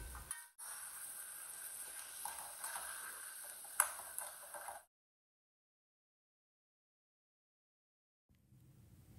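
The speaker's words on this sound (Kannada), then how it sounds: "ಟೊಮೆಟೊ ಸಾಫ್ಟ್ ಆಗೋವರೆಗೂ ಫ್ರೈ ಮಾಡ್ಕೋಬೇಕು." Tomatoes and peas frying in a pan for an aloo matar gravy: a steady close sizzle with light stirring clicks for about five seconds, then silence, then a faint return of sizzling at the end.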